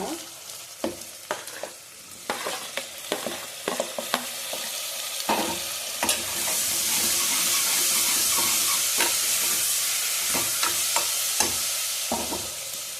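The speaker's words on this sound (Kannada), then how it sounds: "ಸ್ವಲ್ಪ ಫ್ರೈ ಮಾಡ್ಕೋಬೇಕು. ನೋಡಿ, ಈ ಟೊಮೊಟೊ ಹಾಕೋಣ." Tomatoes frying in a pan for a toor dal sagu, with repeated clinks and scrapes of stirring over a steady sizzle that swells into a loud, continuous hiss midway; no talking.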